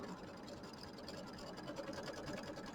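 A sewing machine quilts a fabric block, running in a steady, continuous faint whir for the whole stretch, with no pauses and no voices.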